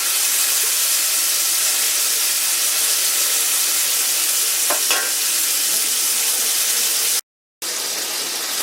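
Bacon sizzles and crackles in a pan alongside ham, a loud, steady frying hiss close by with a brief scrape or stir near the middle and a short dropout near the end.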